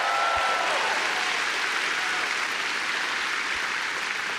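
A large convention crowd at a Star Wars Celebration panel in Anaheim breaks into steady, dense applause that fills the hall, loud and sustained without talk.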